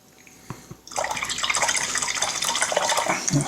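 Water poured or trickled into a small container while painting miniatures. A couple of soft taps come first, then a close, steady splashing trickle for several seconds with no talking.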